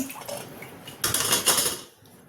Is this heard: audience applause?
no